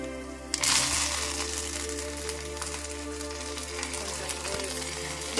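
Curry leaves dropped into hot oil with fried peanuts give a steady close sizzle and crackle that runs on after a brief louder burst at the start, with the gas switched off.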